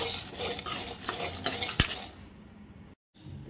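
Sandge vadas being turned while dry-roasting in a pan without oil, soft spatula scrapes and a sharp clink near the middle, close but quiet, fading into near silence toward the end.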